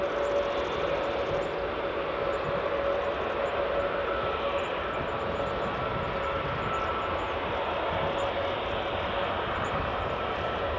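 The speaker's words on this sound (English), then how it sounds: "That's the Aegean just taxiing past where the WestJet is." An Aegean airliner taxis at Edinburgh Airport, its engine a steady, fairly distant broadband roar with a faint whine, continuous and unchanging outdoors.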